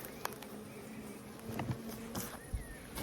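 Honey bees buzz steadily at close range at their hive, a soft droning hum with occasional louder passes and faint taps.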